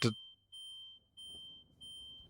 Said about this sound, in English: Why is it fire alarm?